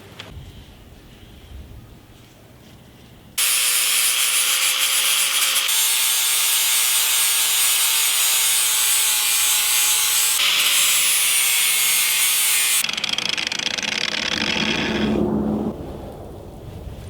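A mokume knife handle is ground on a machine, producing a loud, sustained abrasive whine that runs for about nine seconds, with quieter rubbing before and after.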